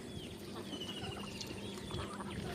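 Turkey hens on a Bangladeshi farm give soft clucks and short calls, fairly faint over a quiet outdoor background.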